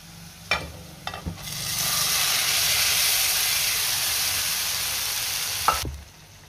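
Cooked masoor dal is poured into a hot tempering of spices and red chilli powder in a pot. A couple of metal clanks come first, then a loud, steady hissing sizzle that holds for several seconds and cuts off with another clank.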